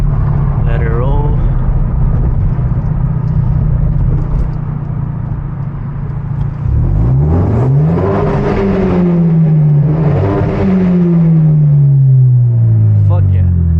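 A manual Hyundai Genesis Coupe with loud exhaust revs in neutral at night, engine note climbing and falling in long swells, loud and close from inside the car with someone talking over it.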